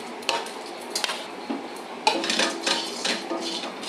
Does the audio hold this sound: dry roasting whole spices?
yes